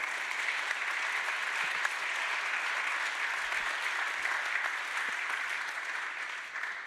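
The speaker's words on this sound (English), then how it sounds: "Let's give a warm round of applause to our very passionate and enthusiastic speakers" Warm round of applause for panel speakers at a conference session on migration partnerships, steady, even clapping from a room of listeners, moderately faint and continuous throughout.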